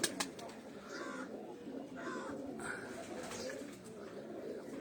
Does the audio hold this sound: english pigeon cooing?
yes